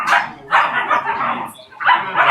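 A dog barks and yelps close by in three loud, drawn-out bursts, separated by short pauses.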